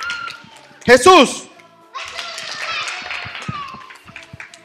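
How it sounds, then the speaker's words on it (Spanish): A group of children at a Christian kids' lesson bursts into applause after a loud shout, the clapping and excited chatter carrying on for several seconds with young voices talking over it. "Ok, un aplauso."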